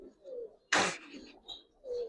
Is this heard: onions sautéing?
no